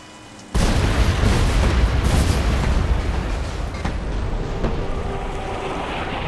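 A sudden loud explosion of a video game dynamite stick with a fuse bursts in after a brief quiet moment, followed by a sustained rumbling roar that slowly fades but stays loud.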